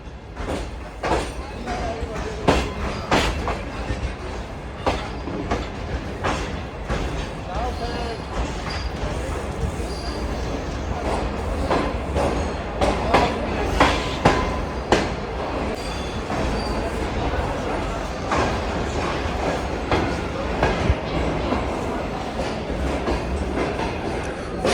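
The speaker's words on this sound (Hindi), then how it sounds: "अब शाह हुसैन एक्सप्रेस अप्रोच बना रही है मुल्तान में" Shah Hussain Express rolling into Multan Cantt station, a continuous low rumble with rhythmic clicking of wheels over rail joints, moderately loud and steady.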